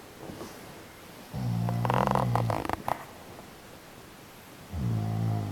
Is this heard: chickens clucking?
no